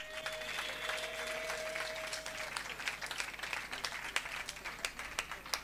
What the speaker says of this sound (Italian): L'applauso del pubblico